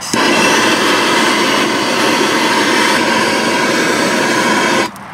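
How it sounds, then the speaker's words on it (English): A torch heats a Mercedes W123 ball joint during a ball joint replacement, giving a steady, loud roaring hiss that holds for nearly five seconds before cutting off abruptly. "Let's try using the torch a little bit."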